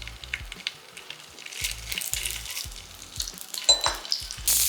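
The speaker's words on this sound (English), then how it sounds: "So to get these sausages going, just going into a little bit of oil in our frying pan." Sausages sizzle and crackle in hot oil, a steady frying hiss with occasional clinks of a pan or utensil.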